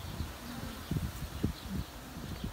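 Honeybees in an apiary buzzing around beehive frames used for drawing out comb, a low, steady hum with several brief louder swells as bees pass close.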